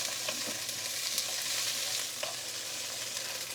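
Tofu sizzles and crackles in a pan with leeks, a constant hissing fry with light stirring scrapes, steady and fairly quiet.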